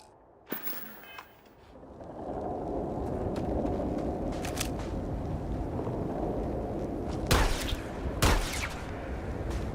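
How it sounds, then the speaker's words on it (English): Pistol gunfire in the video game Starfield, a couple of sharp loud shots near the end over a rushing wind-like ambient roar, with a faint earlier click. "I wanted to try one of these pistols."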